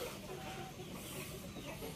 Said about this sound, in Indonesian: ada ayam Indogigante.